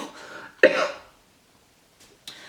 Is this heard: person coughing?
yes